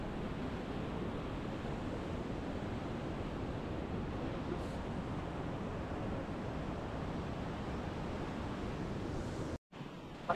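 A swollen mountain river on the Langtang trek rushes below the trail, a dense, constant roar that fills the scene without a break, heard from some distance and with no talking.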